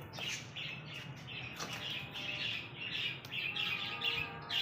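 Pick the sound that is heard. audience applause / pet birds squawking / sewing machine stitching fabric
pet birds squawking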